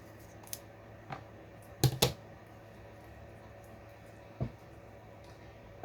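Scissors snip through pages of an antique book in a few sharp, isolated cuts, with a close double snip near the start and a couple more scattered later over quiet room tone.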